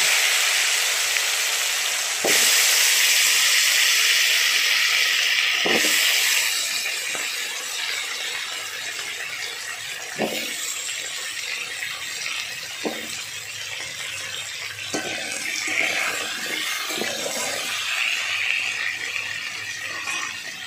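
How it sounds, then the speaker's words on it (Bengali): Cut potatoes fry steadily in hot oil left over from frying large prawns, a bright continuous sizzle broken by several sharp scraping knocks as a spatula stirs them in the pan. "সেই তেলেই কিন্তু কেটে রাখা আলুগুলো একটু লাল লাল করে নেড়ে নিচ্ছি।"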